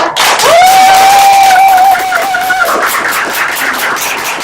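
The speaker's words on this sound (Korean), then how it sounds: "빌드업 스쿨 큰 함성 박수로 시작하겠습니다" Loud crowd cheering and applause at the opening of a Build-up School session in a hall, a sustained roar with a high whistle or shout sweeping over the dense clapping for most of the stretch before it fades slightly.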